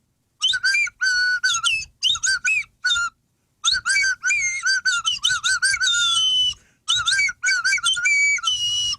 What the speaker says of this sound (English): the slide whistle.